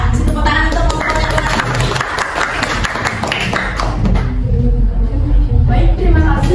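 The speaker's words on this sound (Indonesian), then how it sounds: "Tepuk tangan untuk kelompoknya" A classroom group of students claps for a presenting group, a dense, steady patter of hands filling the room with scattered thumps and taps throughout, alongside background chatter.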